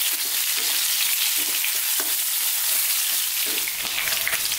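Pork pieces frying in a Chinese wok for sweet and sour pork, a steady close sizzle with intermittent scraping and stirring clatter throughout, rendered fat crackling, no voices.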